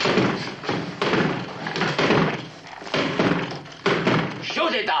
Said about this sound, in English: Break the door.